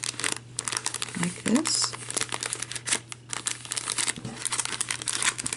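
Sticky tape is peeled and folded over on handmade glittery vintage-style Christmas gift tags, making crinkly, tearing rustles in quick irregular bursts, with a brief spoken voice.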